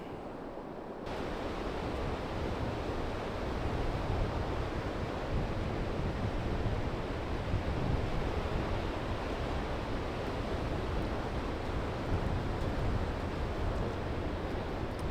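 Surf breaks steadily on a UK beach in autumn, a continuous broadband wash of waves with wind, loud and unbroken for the whole stretch.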